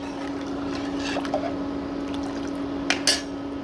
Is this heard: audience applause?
no